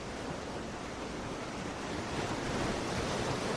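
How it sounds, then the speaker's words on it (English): Ocean waves crash continuously as a steady, broad roar of surf, loud and unbroken, with a touch of wind noise and no voices. "Maybe tuning in to where the waves are crashing"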